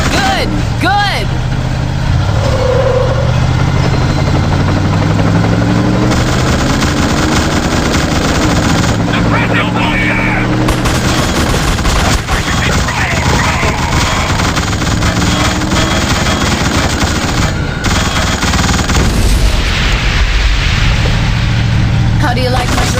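Sustained machine-gun fire and gunshots fill the scene in the horror shooter The Suffering, loud and nearly constant, with engine rumble and shouted voices mixed in underneath.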